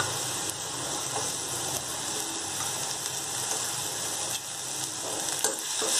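Green peas sizzle in a coriander paste for coriander rice, giving a steady, close, continuous frying hiss with faint stirring scrapes throughout, no voices.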